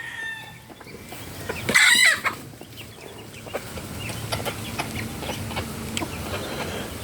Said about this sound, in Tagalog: May isang nakahalong manok.